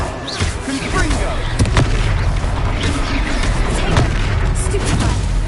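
The Confringo blasting spell in Hogwarts Legacy erupts in a dense, loud barrage of booms and crackling blasts over a constant roar of combat, with a few sharper impacts standing out.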